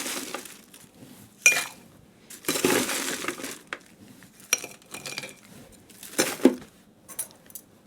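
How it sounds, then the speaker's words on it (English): Ice cubes dropped into cocktail glasses for a rum martini, producing a few sharp, close clinks and crunchy rattles in separate bursts with quiet gaps between. "And we'll ice these down."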